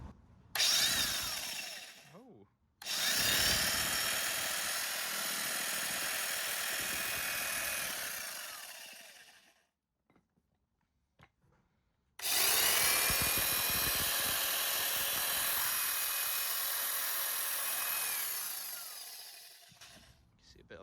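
A repaired Makita power tool, once seized from damp brushes after storage in a cellar, whirs loudly and close up in three bursts: a short spin, a long steady run, then a pause of near silence before another long run that winds down.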